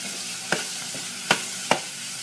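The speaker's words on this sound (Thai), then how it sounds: "ต่อไปเราก็ใส่กุ้งเลยนะคะ ผัดกุ้งกับพริกแกง" Shrimp stir-fried with red curry paste in a pan, a low hiss under three sharp clacks of a spatula against the pan, close and without voices.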